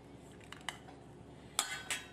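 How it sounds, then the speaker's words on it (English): A spoon scoops avocado flesh out into a bowl, producing a few faint, scattered clinks and scrapes against the bowl over low background hiss. "I'm going to go ahead and pull this avocado out by tracing the bottom of the bowl"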